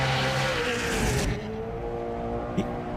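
A Gymkhana car drifting from curb to curb, its engine roaring loud and close with tires squealing, then the noise drops away to a quieter rumble with a brief knock near the end.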